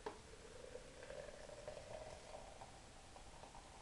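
Water just boiled in a kettle is poured into a container in a faint, steady trickle against a hissy, quiet background, with no voices.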